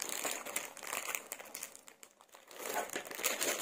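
A plastic bag of jewelry-making beads is handled close up, giving loud, irregular crinkling and rustling. The sound pauses briefly midway, then resumes with further crinkles.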